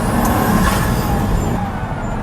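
A Pagani Huayra sports car of roughly 730 horsepower, with turbo boost, is being driven in Italy, its engine a continuous loud rumble and roar heard from inside, steady with slight swells.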